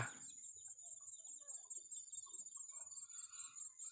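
Chickens pecking at leftover rice grains on a rural Thai farm plot, with faint scattered clucks and soft pecking sounds against quiet outdoor ambience and a steady high insect-like whine.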